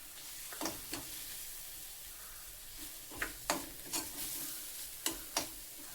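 Ground coriander-cumin powder dropped onto fried green chilies in a pan and stirred makes a quiet, continuous low sizzle broken by several sharp spoon scrapes against the pan, close up with no talk.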